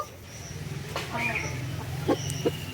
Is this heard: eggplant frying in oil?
no